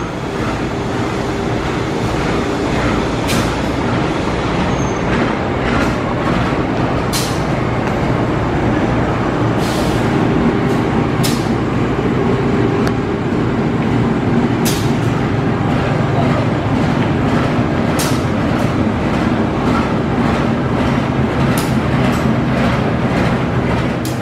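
An aging Tokyo Metro 5000 series electric train, car 5017, rumbles steadily for its final run in Bogor, with a broad continuous roar and scattered sharp clicks and knocks over the rolling noise.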